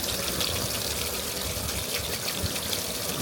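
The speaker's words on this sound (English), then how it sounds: "Now we let that glorious rainwater go into the tanks." Rainwater from a roof pours into water tanks, a dense continuous splashing rush that stays steady and close throughout with no voices.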